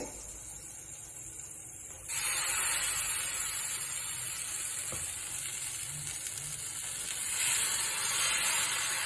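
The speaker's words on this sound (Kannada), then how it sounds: "ಇವಾಗ ದೋಸೆ ಮಾಡ್ತಾ ಇದ್ದೀನಿ." Dosa batter sizzles and hisses steadily on a hot pan, the frying noise jumping louder after a couple of seconds and swelling again near the end, with no talk over it.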